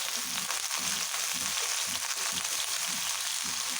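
Hilsa fish frying in a pan of oil as salt, turmeric and dried chilli powder go in, a steady close sizzle with soft stirring knocks pulsing underneath.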